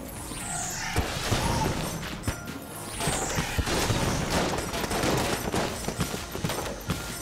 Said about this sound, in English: Railgun, save me. 4 shots.